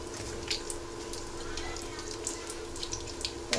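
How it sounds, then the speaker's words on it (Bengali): Egg chops frying in hot oil give a steady, close sizzling hiss with faint clinks and light crackles scattered throughout. "এদিক দিয়ে ডিমের চপগুলো আমি ভেজে নিতেছি"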